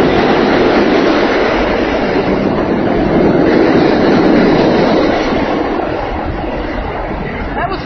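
A train rumbles past directly below the listener, a loud, steady roar of rolling wheels and rattling cars that fills the whole stretch and eases slightly toward the end.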